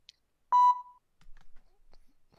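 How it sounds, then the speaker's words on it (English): One sharp electronic beep sounds from a bomb strapped to a vehicle in a video game, with a few soft clicks and faint noises trailing after it. "You just hear beeping."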